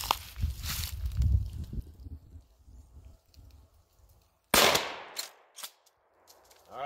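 A Monarch 12 gauge shotgun loaded with 00 buckshot fires one sharp, loud blast about two-thirds of the way through, and the report rings off quickly. Softer handling and rustling noises come before the shot.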